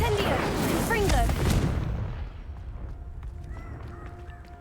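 Incendio and Confringo spells cast in Hogwarts Legacy: a loud fiery burst and blast rumbling up, then decaying into a lingering fizzing tail, with a voice calling out over the start.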